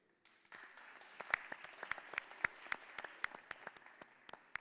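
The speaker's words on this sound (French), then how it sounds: "On va applaudir très très fort pour le recevoir ici," A school audience at a high-school trophy ceremony applauds a guest, the claps distinct and somewhat sparse, building after a quiet start into an uneven patter of individual hands at moderate volume.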